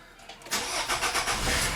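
A 2003 Nissan Altima, just fitted with a new crankshaft position sensor, cranks briefly and fires right up, settling into a loud, close, steady idle within about a second.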